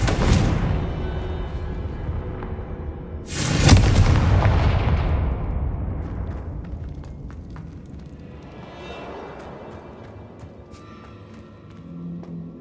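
A Confringo fire spell detonates in the video game Hogwarts Legacy with a single loud, booming blast that rolls away in a long fading rumble, preceded by lower crackling noise.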